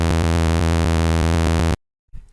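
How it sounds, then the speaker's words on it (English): Rolling sixteenth-note synth bass line from an init Serum patch, a bright, buzzy tone pulsing steadily and loudly, then cutting off abruptly into silence before a faint trailing sound. "I loaded an init serum and I also loaded a bass line which is playing a rolling 1/16 rhythm"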